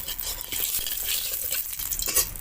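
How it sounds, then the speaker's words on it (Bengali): A spoon rubs and stirs cumin seeds in a hot pan of oil, a steady close scraping hiss with faint sizzle throughout, no voices. "আর জিরেটা এবার একটু চামচ দিয়ে এবার ডলে দেবো"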